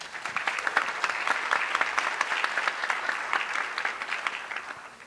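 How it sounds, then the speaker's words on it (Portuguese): Sustained applause from a roundtable audience at a Portuguese-language panel on digital literacy and disinformation, dense even clapping held steady for about five seconds before easing off at the end. "eu queria pedir uma salva de palmas para a Alessandra"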